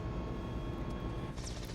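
Twin engines of a simulated Mi-17 helicopter in Microsoft Flight Simulator drone loudly and steadily, then a breathy whooshing rises near the end as the shutdown begins.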